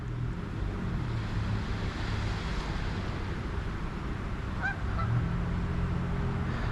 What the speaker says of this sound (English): It is goose migration season, so they're even more annoying than usual this time of year.